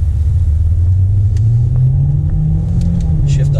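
A Hyundai Elantra in sport mode, with the driver shifting manually, accelerates with a loud, low engine rumble that rises steadily in pitch inside the cabin.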